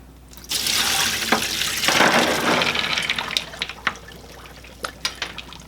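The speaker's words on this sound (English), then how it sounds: "So now we will go ahead and rinse the beans." Beans are rinsed under a running kitchen faucet for a crockpot beans and ham soup, water rushing and splashing close by, then breaking into scattered drips and clatters as the flow eases.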